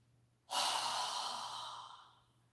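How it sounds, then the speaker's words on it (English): A deep yoga exhale through a wide-open mouth comes as one long, breathy rush of air, starting abruptly and fading slowly over about two seconds, close and alone, with a faint low hum underneath. "inhale with our hands up toward the ceiling, and exhale with your mouth open wide"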